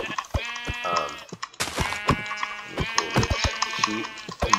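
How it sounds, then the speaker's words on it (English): Sheep bleat in a blocky survival video game, several wavering cries at close range mixed with clicking game sounds. "Sheep, come on."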